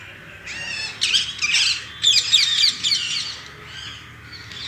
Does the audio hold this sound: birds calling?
yes